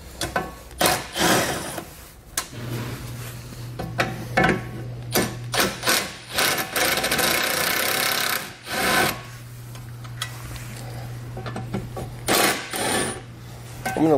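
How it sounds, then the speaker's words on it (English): A 13 millimeter socket on a power tool whirs in bursts, removing bumper beam bolts on a 2014 Volkswagen Jetta, with quick buzzing pulses and a longer sustained run, interspersed with clinks and handling noise. "We're going to be using a 13 millimeter socket."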